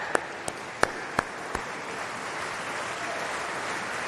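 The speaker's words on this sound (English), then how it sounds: "give a huge round of applause and cheer to everyone sitting in front of you" Scattered claps and a few sharp hand strikes from graduands standing at the back of a university graduation ceremony, heard over a steady crowd wash that carries on after the clapping fades.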